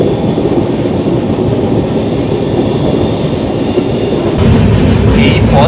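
The 13149 Kanchankanya Express runs on rails through hilly tea-garden country with a steady, loud, continuous rumble and rattle of wheels and carriages. The sound grows slightly heavier near the end.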